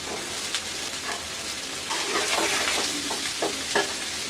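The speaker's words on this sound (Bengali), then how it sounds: "পেঁয়াজটা ভাজা ভাজা হয়ে গেছে" Onion frying in a pan, a bright continuous sizzle broken by repeated scraping stirs and light utensil taps, close and busy.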